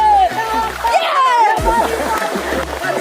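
People splash and wade in a river near home, water sloshing and spattering continuously under loud, lively voices and a child's chatter, with music playing in the background.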